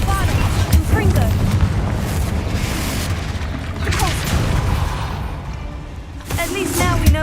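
In Hogwarts Legacy, a Confringo fire spell blasts inside a tomb. A deep, rumbling explosion rolls on with crackling debris and mechanical clatter, loud and sustained, and game voices speak faintly over it.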